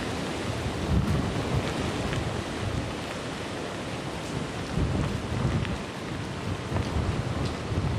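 Heavy rain and gusting wind from Hurricane Florence roar steadily and loudly throughout, a dense unbroken wash with surging gusts and no voices.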